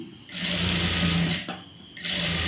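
An electric sewing machine stitches a blouse neck piece in steady humming runs, stopping briefly twice between bursts, close and loud with no talk over it.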